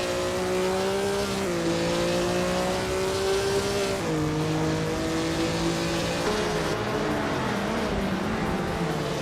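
Video-game race cars battle nose to tail, their engines whining loudly with rising pitch broken by abrupt gear shifts, several motors overlapping in a continuous, close roar.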